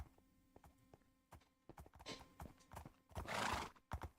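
Horse hooves clip-clop in a steady walking rhythm in a Minecraft horse race, followed by a loud, drawn-out whinny near the end, with no talking.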